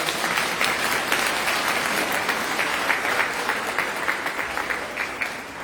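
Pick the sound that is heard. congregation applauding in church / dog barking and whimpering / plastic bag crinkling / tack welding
congregation applauding in church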